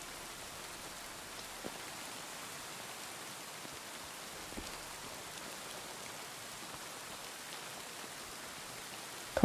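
Rain falling in the video game Kingdom Come: Deliverance II, a soft even patter and hiss of drops on surfaces, faint and steady throughout, no voices.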